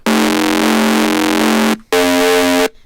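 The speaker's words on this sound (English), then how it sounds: "It's a saw wave with a little bit of distortion that's being FM'd by a sine wave." A loud, buzzy distorted saw-wave synth tone, frequency-modulated by a sine wave, with a harsh metallic edge holds for nearly two seconds, stops briefly, then returns with a slightly different pitch.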